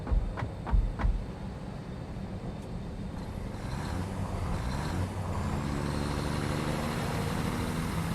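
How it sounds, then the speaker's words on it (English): Truck driving in the video game Satisfactory, a few heavy thumps at the start and then a steady, rising engine rumble with wind-like hiss that builds and holds, no talking. "I think this truck drives awesome."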